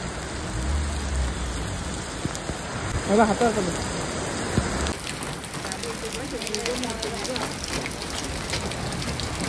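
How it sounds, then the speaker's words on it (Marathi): Hailstones falling en route to Shimla near Naggar Castle, a dense pattering hiss with scattered sharper hits, steady and fairly close, while a person speaks briefly. "डोक्यावर पडतायत गारा."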